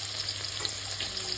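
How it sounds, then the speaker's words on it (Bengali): Chicken meat frying in oil for biryani, giving a steady, close, continuous sizzle with fine crackling throughout. "এদিকে মাংসটা এখনো ভাজা হচ্ছে,"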